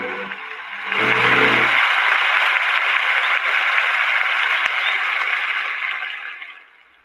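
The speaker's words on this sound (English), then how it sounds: "let me go ahead and give that brother a much respected clap" A crowd at a talk on homelessness in Los Angeles breaks into loud, dense clapping that holds steady for several seconds before fading out, with a brief low tone at the start.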